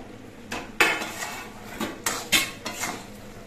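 Fried gaja pastries, finger-shaped murali gaja, are tossed through thickened sugar syrup in a pan with the heat off, giving a run of sharp metallic clanks and scrapes of a utensil against the pan, several loud knocks spaced irregularly.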